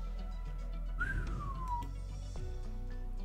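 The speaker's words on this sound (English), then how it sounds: "that was Blaze whistling" Blaze, a character in the video game Arknights, whistles a single sliding falling note, clear and fairly close, against a quiet background of low game music.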